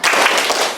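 A group in a classroom lesson performs a spirit clap, a dense burst of hand claps close and loud, filling the brief moment without voices.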